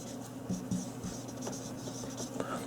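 A pen scratches out a quick table on paper in faint, intermittent strokes against a quiet background hum, with no talking.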